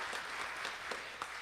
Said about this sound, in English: part of the applause from the musician corps